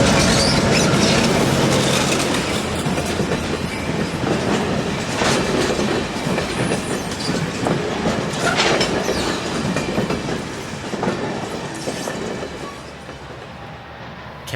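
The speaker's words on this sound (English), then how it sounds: "Capital comes down the coastline and heads past the old Santa Clara Interlocking Tower" An Amtrak Capitol Corridor train passes Santa Clara near the old interlocking tower, a loud close rumble of wheels with clickety-clack and brief squeals that eases slightly toward the end.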